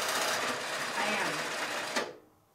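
A longarm quilting machine driven by a Quilt Butler stitches with a steady, fast mechanical whir that runs low on bobbin thread, then stops abruptly; a person talks over it.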